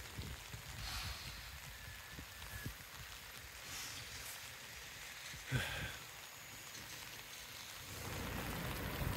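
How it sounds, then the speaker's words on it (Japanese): Rain falls on lotus leaves in an outdoor lotus garden in Hashima, Gifu, Japan: a steady soft hiss of drops with occasional louder pattering taps, fairly faint and close, with no speech. "こういうふうに雨が降るとこうハスの葉っぱの上に水滴がついてね"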